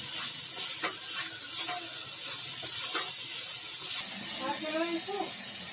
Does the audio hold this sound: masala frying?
yes